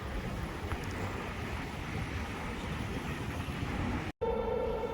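A train in Warsaw rumbles steadily, a dense low roar filling the whole stretch at moderate loudness, broken by a sharp momentary dropout near the end before the noise resumes.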